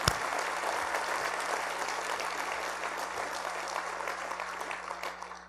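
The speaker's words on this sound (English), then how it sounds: "Let's give them a round of applause." Audience applause for scholarship students at a gala dinner, a steady dense round of clapping that starts sharply and carries evenly for several seconds before slowly thinning, with a low hum underneath.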